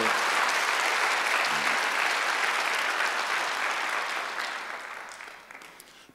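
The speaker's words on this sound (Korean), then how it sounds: "박수 좀 세게 쳐요" A congregation at a Sunday church service gives a loud, sustained round of applause that fills the room, then tapers off toward the end.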